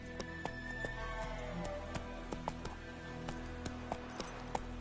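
Roach, a video-game horse, gallops with sharp, evenly spaced hoofbeats ringing out close and clear over a steady low background bed.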